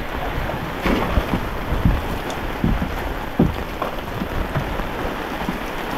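Heavy rain pours at sea around a small fishing boat, a dense, steady hiss with scattered louder drops and spatters throughout.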